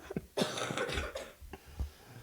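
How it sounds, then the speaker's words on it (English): A few dry, raspy coughs come in quick bursts, fairly close and on their own, with breathy pauses between them. "Dry cough."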